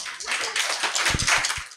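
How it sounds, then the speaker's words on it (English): A roomful of listeners at a personality development session claps, a brief dense patter of hands lasting under two seconds before stopping abruptly. "Please clap for them."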